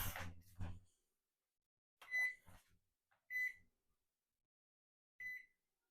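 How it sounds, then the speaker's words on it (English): A kitchen microwave timer beeps three times in separate short tones spaced a second or so apart, with a brief burst of handling noise and a faint voice at the very start. "I'm going to set my timer on the microwave."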